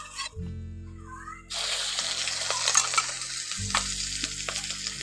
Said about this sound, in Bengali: এখন একটু ভালো করে নাড়াচাড়া করে একটু ভেজে নেব